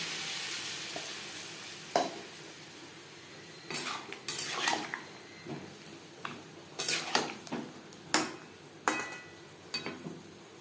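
Metal utensil scraping and clinking against a pan as potato and eggplant are stirred, in a series of sharp irregular knocks over a faint background sizzle.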